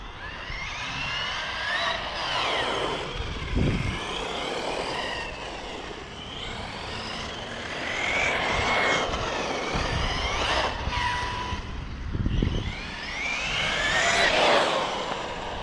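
A carbon-chassis electric RC off-road sledge buggy on a 6S 5000 mAh battery, its motor whining in rising and falling sweeps as it accelerates down a long straight and brakes hard, with gravel crunching, moderately loud and close.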